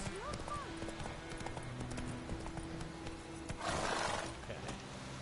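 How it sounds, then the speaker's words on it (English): Horse hooves clip-clopping in The Witcher 3 video game, a soft, even gait of light knocks running under game music and a voice, with a brief louder rustle near the end. "The horse is neat."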